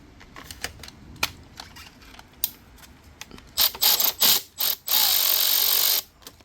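A ratchet works loose a bolt in the engine bay of an Infiniti G37, with light clicks and handling at first, then a series of louder, rapid ratcheting bursts and a sustained final run of clicking.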